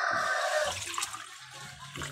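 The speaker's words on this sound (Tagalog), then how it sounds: "Lagyan natin ng tubig." Water is poured into a cooking pot in a strong, splashing rush that runs for a moment and then tapers into a quieter trickle and settle, with no talking.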